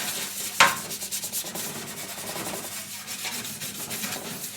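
Close, continuous scrubbing of a stained sink with cleaning solution, a rough rhythmic rubbing texture that opens with a sharp knock.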